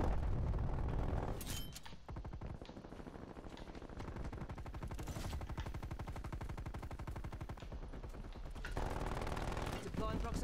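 Sustained automatic turret fire in a Call of Duty match, a rapid, dense rattle of rounds running almost continuously with brief shifts in intensity, loud and close.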